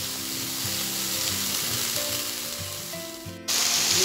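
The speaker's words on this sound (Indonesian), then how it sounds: "Kita aduk-aduk, kita tumis sampai bumbu-bumbunya matang." Ground spice paste for Betawi tofu and egg semur is stir-fried in oil, giving a loud continuous sizzle with scraping stir strokes and a sudden burst of hissing near the end.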